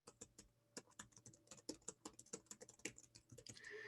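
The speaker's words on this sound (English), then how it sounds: "Let me type that in." Fingers type on a computer keyboard in a quiet room, a steady run of close, soft key clicks at an uneven rhythm with no voices.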